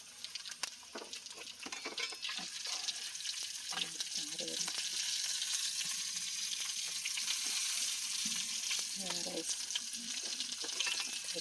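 Loud, steady sizzling of chicken frying in hot oil, crackling close up, with a few brief spoken words and clinks of utensils.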